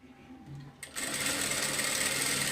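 A sewing machine stitches cowl sleeves for an umbrella frock, starting after a brief quiet lead-in and then running in a loud, continuous high-pitched whir close by.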